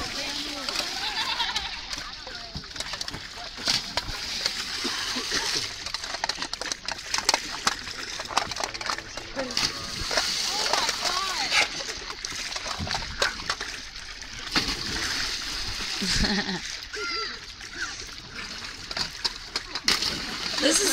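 People jump into a pool at a pool party, with repeated splashes and sloshing water amid a lively crowd of shouting voices and chatter.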